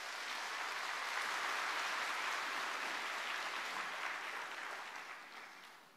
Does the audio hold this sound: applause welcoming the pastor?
yes